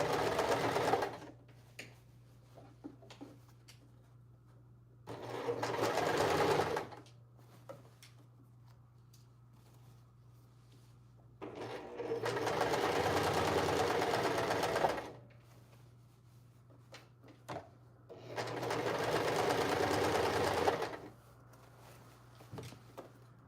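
A sewing machine stitches a skirt in four separate runs, each a few seconds of steady whirring hum broken by quiet pauses with faint handling noises.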